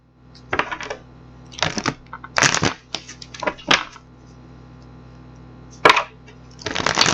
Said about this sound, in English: let's get these cards shuffled up